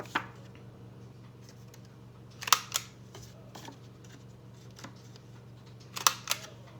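Paper flap corners are rounded with a cutting tool, heard as two pairs of crisp snipping clicks plus a few lighter ones, quiet over a low steady hum.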